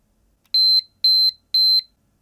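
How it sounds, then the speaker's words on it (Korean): A light-up pomodoro timer sounds its alarm as three evenly spaced, clean electronic beeps, each about a quarter second long, loud and close in an otherwise quiet room. "이렇게 소리 알람도 나고"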